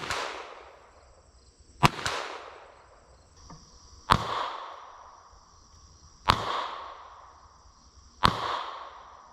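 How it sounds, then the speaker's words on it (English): Ruger Mark II .22 pistol fired at a steel dozer blade: five sharp shots at roughly two-second intervals, each with a ringing metallic decay, outdoors with no talking. "We're gonna start with the Ruger Mark II 22. I think it's gonna punch right through it."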